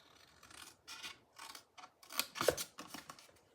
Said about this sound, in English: this one says cut it all the way in